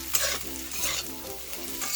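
Minced fish, fried beforehand, stirred into a potato and bitter gourd curry in a pan, a Bengali bitter chorchori, with steady scraping and sizzling frying sounds close up for two seconds.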